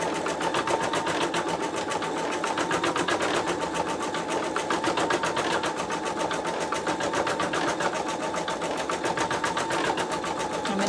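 An embroidery machine fitted with a Sew Tech PA116M 260x200mm magnetic hoop stitches out a design, its needle hammering in a fast, steady, unbroken rhythm, close and alone.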